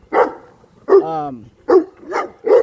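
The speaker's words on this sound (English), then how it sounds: "These fucking dogs, I hate these dogs." Dogs bark in five sharp, loud, close bursts. One bark stretches into a whining yelp, and the barks come at uneven intervals with quiet gaps between them.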